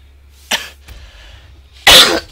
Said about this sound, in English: Sorry about that cough again.